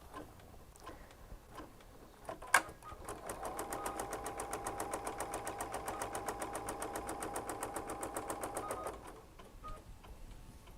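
Embroidery machine quilting through fabric and batting, a steady rapid mechanical pulse running for about six seconds after a few faint clicks and one sharp knock, then stopping.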